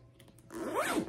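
A zip top closure on a Michael Kors shoulder purse being opened: a single quick zipper pull rising in a smooth rasp, close and clear, preceded by a few faint taps.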